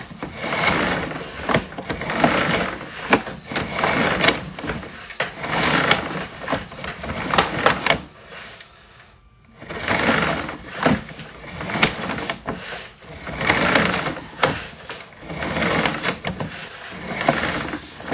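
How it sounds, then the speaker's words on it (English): A drain cable machine spins chains inside a sewer line to break up sludge, where plastic pipe meets cast iron under a house. It makes a loud, steady mechanical churning with rhythmic pulses and a brief lull midway. "We'll run a cable machine down here, beat some chains around on that, break this sludge up,"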